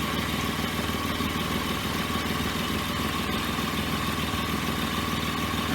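A car engine with a newly installed alternator idles steadily and close by, giving a loud, even, continuous rumble with a constant drone that does not change across the whole stretch.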